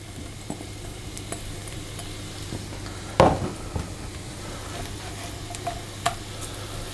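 Shallots sizzle quietly in a hot pan, with a sharp clatter as they go in and light stirring taps and scrapes afterward over a steady low hiss.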